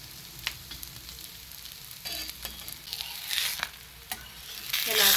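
An aloo paratha cooks on a hot tava griddle, giving a steady sizzle with scattered crackles and scraping taps close by. The sizzle swells louder toward the end.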